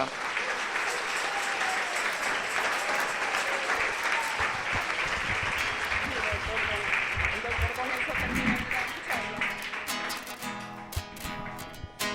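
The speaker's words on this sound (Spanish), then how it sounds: "Vamos a dar un aplauso a la Virgen." Sustained applause from a group at a religious retreat, clapping steadily for several seconds before thinning out near the end, with voices mixed in.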